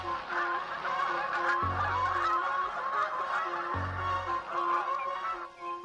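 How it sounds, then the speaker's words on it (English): Geese and ducks honk and call among other birds in a children's show scene, repeated goose-like honks standing out over a steady bed of music and bird chatter, fairly loud and close, with no talking. "Geese and the ducks, all the birds come back."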